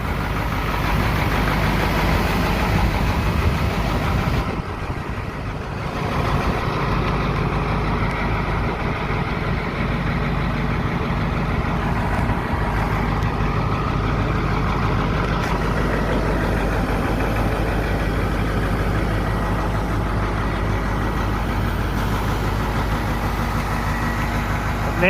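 Caterpillar 3208 turbo diesel engine fitted with a homemade Thai-style howl pipe runs steadily for about twenty-five seconds, a loud, close, continuous low rumble with a brief dip near the five-second mark and no talking.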